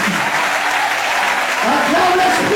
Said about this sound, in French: Que quelqu'un donne une forte acclamation à l'Esprit de Dieu ce soir.